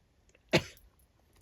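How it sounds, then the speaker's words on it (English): A single sharp sneeze bursts out once, close and fairly loud, in an otherwise quiet room, trailing off quickly. "sneezing"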